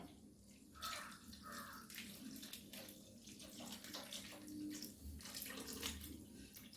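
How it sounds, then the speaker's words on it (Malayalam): Steady stream of milk being poured into a pumpkin and dal payasam, a continuous close liquid pouring and splashing sound lasting several seconds without speech. "ഇനി നമുക്ക് പാലൊഴിച്ചു കൊടുക്കാം"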